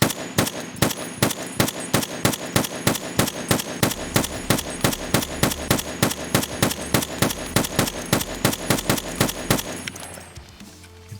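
Rapid single-fire shots from a rifle in Escape From Tarkov ring out close and loud in a steady, evenly paced string of about forty reports over ten seconds, each sharp crack followed by a short tail, before the firing stops.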